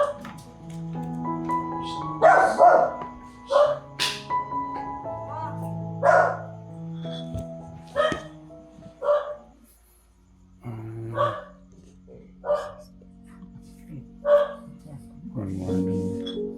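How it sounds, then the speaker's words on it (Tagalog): A dog barks in short repeated bursts, close and fairly loud, mixed with people talking nearby. "Alas yung aso, baka managpang."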